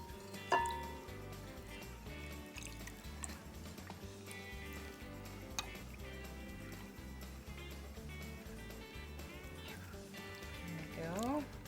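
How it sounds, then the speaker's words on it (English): Oils poured slowly into a mix of distilled water and goat's milk while stirring to make lotion, faint liquid drips and squishy stirring under a low music bed, with brief clinks. "we'll go ahead and pour this in here slowly, and we're going to stir as we pour."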